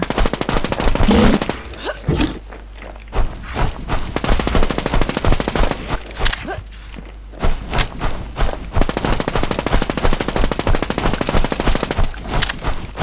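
Sustained bursts of rapid automatic gunfire from a shooter video game boss fight, loud and close, broken by short pauses and then resuming in long rattling volleys.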